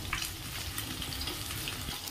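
Fish pieces fry in a pan with a dense, continuous sizzle and crackle, close and moderately loud throughout with no talk.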